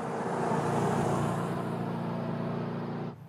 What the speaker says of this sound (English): That truck's coming up on us awful fast.